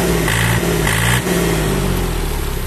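A Kubota L1-18 tractor engine with mechanical controls, a Japanese domestic model, revs hard at full throttle, a loud, steady, close mechanical drone with a slight drop and recovery in pitch.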